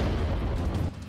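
An FH-70 howitzer, a towed artillery gun built jointly by Britain, Germany and Italy, fires with a loud, rumbling boom that fills the brief moment and then tapers slightly.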